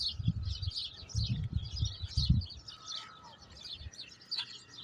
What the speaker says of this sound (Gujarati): આ ચકલિયું છે જેનો અવાજ બહુ આવે છે વરસાદ પછી અહીંયા